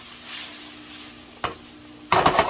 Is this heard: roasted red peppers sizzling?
yes